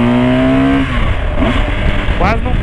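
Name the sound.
BMW R1200 motorcycle riding between cars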